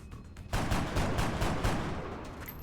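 Heavy gunfire from the XCOM Long War video game: a dense run of sharp, loud shots and bursts that starts abruptly and rattles on steadily, with no talk over it.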